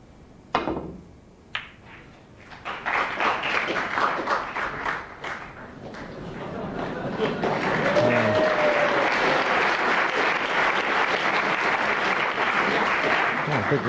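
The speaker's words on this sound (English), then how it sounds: "Big round of applause for a sort of bit of a fluke snooker" Applause from a snooker audience at the 1996 World Championship, starting with a few scattered claps and sharp knocks, then swelling into sustained, steady clapping, with a voice briefly heard over it.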